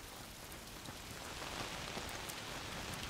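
Steady rain pours in A Plague Tale: Requiem on PS5, a dense, even hiss of drops on surfaces that fills the scene without pause and without any voices.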